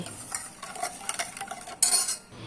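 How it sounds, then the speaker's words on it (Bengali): Cardamom powder and ground cashew, almond and pistachio being mixed into milk by hand, a utensil scraping and clinking against the bowl in short irregular strokes, close and fairly quiet, with a brighter burst of clatter near the end. "এবার সব কিছু ভালো করে মিশিয়ে নিচ্ছি"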